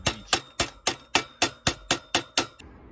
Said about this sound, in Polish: I teraz w ten sposób młotkiem, żeby nie stukać tylko w jednym miejscu, żeby łożyska nie uszkodzić.